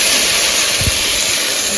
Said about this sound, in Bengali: এটাকে ভালো করে মিক্স করে ভাজাভাজি করে নেব